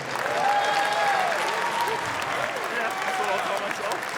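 A convention crowd at opening ceremonies claps steadily and loudly throughout, a dense wash of applause with a few cheers, while a voice speaks over it.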